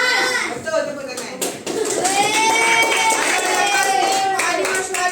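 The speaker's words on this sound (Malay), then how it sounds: "Betul, tepuk tangan." A class of pupils claps together, a dense burst of many small hands that settles into steady applause, with a teacher's voice over it and ringing tones in the background.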